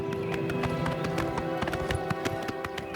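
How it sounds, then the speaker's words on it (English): Horses trotting in the video game Oblivion Remastered, several animals together, a steady busy clip-clop of hooves over a constant low background hum. "These 3 horses here are strange."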